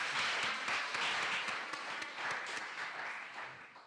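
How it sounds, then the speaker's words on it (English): Audience applause at a conference session, a dense, steady patter of many hands clapping for several seconds, heard at a moderate distance and slowly fading toward the end. "Yes, there's a clap."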